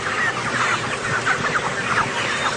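A flock of chickens kept in a poultry trial clucks steadily and overlapping, a busy close chorus over a constant farm-shed background hum.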